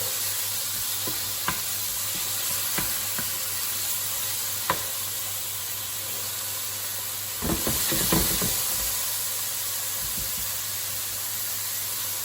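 Chicken pieces sizzle over high heat in a pan, a constant frying hiss broken by scattered clicks and a louder burst of stirring and scraping in the middle.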